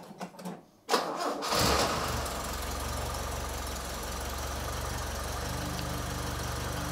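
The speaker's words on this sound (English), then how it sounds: "this is what it sounds like with the new exhaust" A few clicks, then an RA28 Toyota Celica Fastback engine with a new exhaust cranks and starts, settling into a steady, fairly quiet idle that hums on for several seconds.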